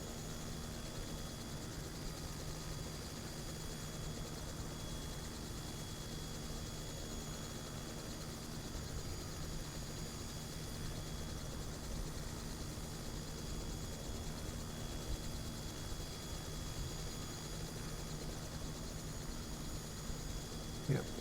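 A helicopter in Helicopter Simulator hums and whines steadily throughout a rescue flight, a constant engine and rotor drone with no breaks.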